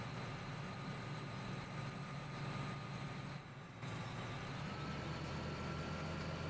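A tractor engine idles in Farming Simulator 17, producing a steady, droning diesel rumble that holds constant with a small dip partway through.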